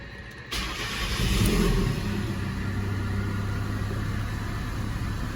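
A Ford Ranger engine cranks and catches, then settles into a steady, moderately loud idle with a low droning hum that continues to the end.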